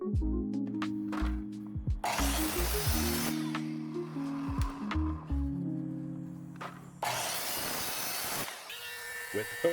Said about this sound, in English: I've got a stop block set up on the miter saw here. This will allow us to cut down each of these to their final size.